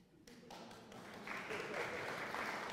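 A concert audience at a show in Avedøre breaks into applause, starting as scattered claps and quickly swelling into a dense, steady wash of clapping with faint voices mixed in.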